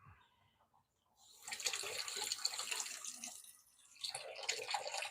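Water runs from a tap during a shave, a steady hiss that starts after a brief quiet moment, dips, then picks up again, close and fairly soft.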